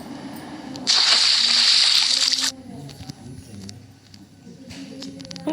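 A character splashes in water in the Indian Theft Auto game, a loud, rushing burst of sloshing lasting about a second and a half, followed by quieter ambient game sounds.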